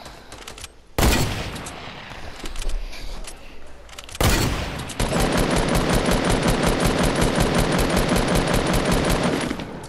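Rapid automatic gunfire bursts from a squad shooter video game, a loud opening crack and another burst, then sustained fast rattling fire through the back half, with a player's brief voice over it.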